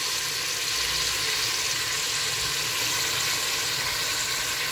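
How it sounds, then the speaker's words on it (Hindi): Mutton pieces frying in ghee in a pan, a steady close sizzle and crackle running without pause and free of speech. "चलिए मटन को हम भूनते हैं बहुत अच्छी तरह से, घी में या ऑयल में।"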